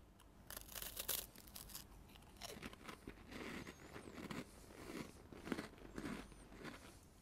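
Quiet crunching bites into a Bisk Farm spicy biscuit, a few brittle snaps followed by soft chewing, close up and faint with no talking.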